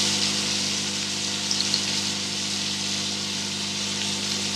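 Flour-coated prawns frying in hot oil for spicy prawn rice, giving a steady, close, even sizzle and hiss that holds throughout with no talking.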